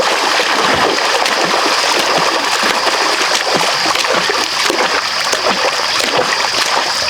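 Water splashes and churns steadily close by as someone bathes in open water, a dense continuous wash of splatter with no voices over it.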